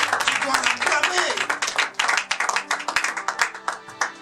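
A church congregation claps loudly in quick rhythmic bursts while acclaiming the Lord, the claps sharp and close, mixed with voices and a shout of praise.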